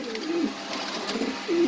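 Pigeons at a breeding farm coo in two short, low throaty phrases, one early and one at the end, over a quiet background with faint chirps.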